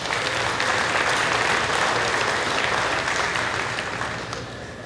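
A crowd at a livestock Sale of Champions claps for the KMMO radio station from Marshall, dense steady applause that tapers slightly at the end.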